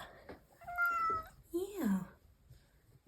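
A house cat meows clearly twice, rising and falling cries close to the microphone, with a person's voice speaking briefly around them indoors.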